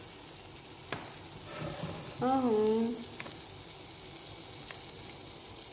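Butter for French toast sizzles softly in a frying pan on the stove, a quiet steady crackle with faint stirring clinks while someone speaks briefly over it.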